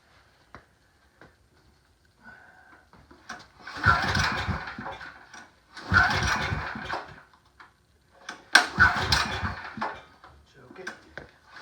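A small generator's engine is cranked several times with a pull start, giving three bursts of sputtering engine noise that fail to catch, separated by short pauses and faint clicks.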